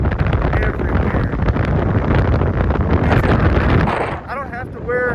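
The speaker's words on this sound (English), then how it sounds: "It is freaking windy." Strong gusting wind roars across the microphone at a dusty, sandy ATV recreational park, loud and continuous for most of the time before easing slightly near the end, with a voice speaking over it.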